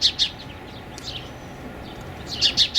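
Small migrating birds with red head patches chirp at a feeding station among goldenrod, giving a few short, high, bright calls in bursts over a soft outdoor hush, with no talking.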